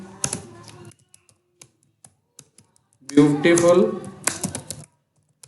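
Clicky computer keyboard typing comes in short taps and quick bursts while someone speaks Hindi over part of it, recorded close up.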